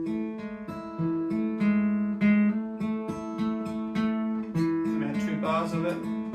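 Acoustic guitar picking a riff, fingerpicked notes over a low thumb bass in a steady pattern, close and clear, with a busier strummed flourish near the end.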